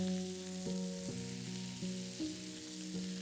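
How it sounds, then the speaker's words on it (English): Onions sear in hot oil in a pan, giving a steady sizzling hiss through the whole stretch while a tuneful musical backing plays prominently underneath. "add a bit more oil and your onions, as they only need a few seconds to crisp and soften"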